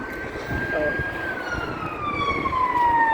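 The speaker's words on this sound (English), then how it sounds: "Ambulances, paramedics. Blue light emergency." An ambulance siren wails along a street in Croydon, south London, with a sweeping tone over busy traffic noise, fairly close and loud.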